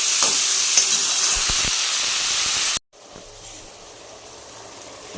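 Ground masala mixed with curd fries in a pan for a palak mushroom coconut milk pulao, giving a loud, steady sizzle and hiss. It cuts abruptly to a much quieter, softer simmer partway through.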